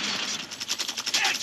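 Rapid automatic gunfire from a Call of Duty multiplayer match, a dense burst of repeated shots with a ratcheting mechanical edge, loud and close, running continuously.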